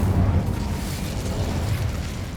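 An Incendio fire spell bursts in a video game, a dense, roaring whoosh with a deep rumbling low end that holds steady and loud for a couple of seconds.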